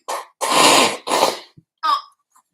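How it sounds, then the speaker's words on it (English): A person blows their nose in a few forceful, breathy bursts: a short one, a long loud blast, another strong blow, then a brief snuffle and a faint sniff afterward, heard close up with no talking. "I have to blow my nose."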